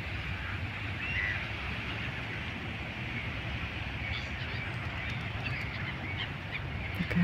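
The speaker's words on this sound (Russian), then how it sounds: "Чайки кричат, носятся." Seagulls cry over the sea on a sunny winter day in Sukhumi, their faint calls scattered over a steady wash of background noise, with no talking.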